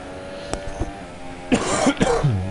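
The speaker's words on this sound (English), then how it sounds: "Excuse me, I keep coughing." A few harsh coughs from an ill person come close up, spaced out over a couple of seconds, some rough and throaty.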